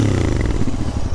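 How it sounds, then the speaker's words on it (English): A Royal Enfield Interceptor 650 motorcycle with its stock exhaust pipes runs close by, giving a brief, loud, throbbing burble. "Oh, that sounds alright. These are stock pipes."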